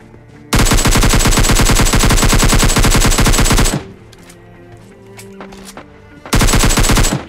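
Gunfire in the mobile battle royale game BGMI Lite comes as loud, rapid automatic bursts. A long burst of about three seconds is followed by a quieter stretch of scattered game sounds, then a second burst starts.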